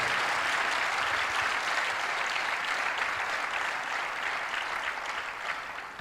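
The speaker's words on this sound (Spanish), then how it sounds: "Apláudele con gozo." A church congregation at an evangelical conference applauds joyfully, a sustained wash of many hands clapping, loud and even throughout before easing slightly at the close.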